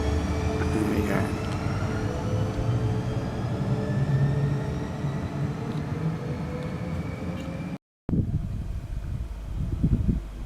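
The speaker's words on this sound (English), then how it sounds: "Here's a northbound tilt train for Rockhampton." A northbound Tilt Train bound for Rockhampton rumbles past steadily with a broad roar and wind noise. The sound cuts out briefly near the end, then continues.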